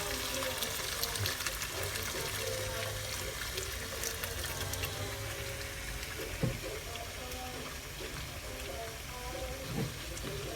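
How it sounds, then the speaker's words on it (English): Soy sauce poured into a hot pan while cooking Chinese fried noodles and vegetables, a steady bright liquid hiss and sizzle filling the whole stretch, close and continuous. "We're gonna put the soy sauce."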